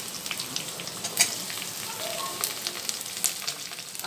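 Shredded cabbage and capsicum sizzling in a pan for an Indian-style masala pasta, a faint, steady crackle with occasional light stirring clicks and no talking.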